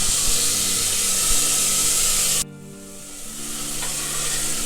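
Roughly chopped tomatoes sizzle loudly in hot oil in a pan for bottle gourd curry, a steady close hiss that drops abruptly partway through, then rises gently again.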